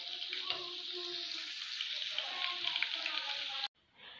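Food deep fries in oil in a small pan, a steady close bubbling sizzle with light crackles that cuts off abruptly near the end.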